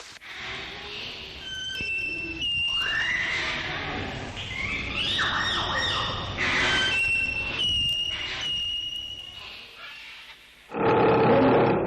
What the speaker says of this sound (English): What's that animal? It's a lion.